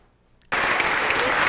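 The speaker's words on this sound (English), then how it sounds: "Crowds applauded as students showed off their skills at the Monster Concert." Audience applause for student pianists at a classical piano concert bursts in suddenly after a brief near-silence, a dense, even clapping from a large crowd.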